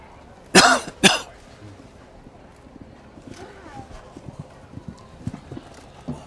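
Hooves of a show jumper in a jump-off thud on the arena footing in a quick irregular rhythm, preceded by two loud bursts like a cough, with a commentator talking over the action.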